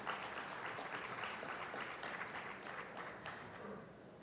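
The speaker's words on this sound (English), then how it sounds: "Let's give them a round of applause" Sustained applause from a large audience at a conference plenary session, a dense, even wash of many hands clapping at once, moderately distant and holding steady throughout with no talking over it.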